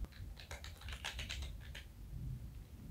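Rapid bursts of keystrokes on a computer keyboard as a spreadsheet formula is entered, clustered in the first two seconds and then fading into quiet room noise, with no voice.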